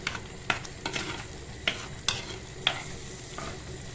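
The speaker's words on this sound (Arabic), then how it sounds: "نقلبهم بس شوية." Okra and chunks of meat stirred in a pot, with a spoon scraping and clacking against the pot in several distinct strokes over a soft background sizzle of frying.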